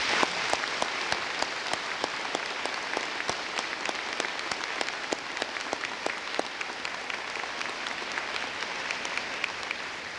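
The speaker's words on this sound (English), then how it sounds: "join me in giving everyone a round of applause" An audience in a school auditorium at a dedication ceremony applauds steadily, a dense even crackle of many hands clapping, fairly distant and sustained throughout without voices.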